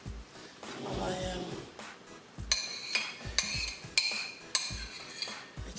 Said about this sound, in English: gently mix in the eggs with the potatoes